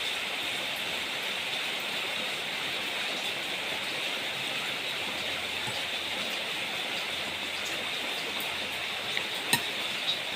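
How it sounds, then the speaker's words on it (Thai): Steady rain hisses evenly throughout, a constant wash of falling water with a few faint taps near the end. "ฝนตก"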